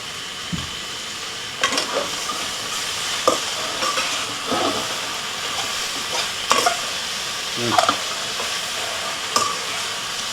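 Chicken, mushrooms, beans and tofu stir-frying in a hot Man Pan on a Volcano Grill, a loud constant hiss and sizzle broken by repeated scraping, clanking stirs.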